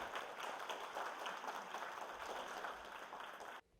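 An audience at a career mentoring session applauds to welcome a speaker: a brief, fairly faint, even patter of clapping from a crowd that cuts off abruptly.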